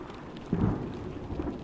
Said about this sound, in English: No, I think it is definitely thunder.